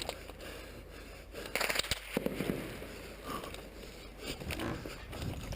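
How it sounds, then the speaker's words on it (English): Gunfire in real combat footage from U.S. soldiers in a firefight, with bullets landing close to a soldier: sharp cracks and bursts of shots clustered mid-clip over a steady noisy background, fairly loud and close. "not panicky by the fact that bullets are landing quite near him and he's hit."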